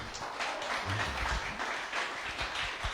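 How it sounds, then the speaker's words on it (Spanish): A church congregation applauds during a sermon, a fairly quiet, continuous patter of clapping with a few low thumps underneath. "Denle un aplauso al Señor por eso."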